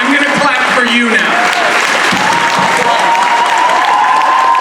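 Applause from a crowd at a live weekend comedy gathering, a loud, continuous wash of clapping close by, with voices mixed into it.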